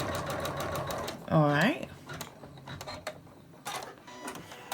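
A Janome embroidery machine stitching out a lace coaster, its motor running in a steady rapid whir with a rising pitch sweep midway and needle clatter, heard close up under a man's speech.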